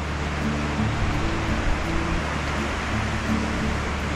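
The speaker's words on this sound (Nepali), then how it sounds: "खोला पनि के हो यार, बाढी आएको छ क्या माथि यार" A flooded mountain river in Nepal's Langtang Valley rushes in a loud, steady broadband roar that stays constant and close throughout, with no speech.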